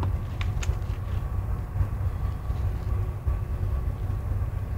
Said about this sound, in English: A big train, look how long it is.